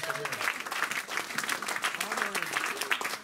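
A church congregation applauds and cheers in a steady, dense wash of clapping, with voices calling out and singing tones rising over it throughout.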